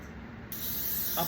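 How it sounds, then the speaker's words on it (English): Pam cooking spray hisses from a can onto a baking pan for a carrot cake, one steady close burst with no talking. "I'm going to spray it, make sure the sides are sprayed pretty good"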